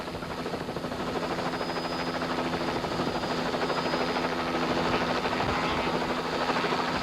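Helicopter flying over a 1992 Tour de Total rally stage, a steady, fairly loud rotor drone with a rhythmic chop that swells slightly as it passes, heard alone.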